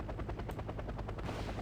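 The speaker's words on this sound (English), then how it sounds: "Fortune is flying this helicopter." A helicopter in the video game Wargame: Red Dragon, with a loud rapid rhythmic rotor chop that pulses steadily throughout, close and continuous.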